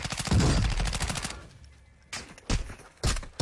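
Rapid automatic gunfire from a first-person shooter video game, a dense burst of shots up front, then a lull and a few more short bursts, loud and close.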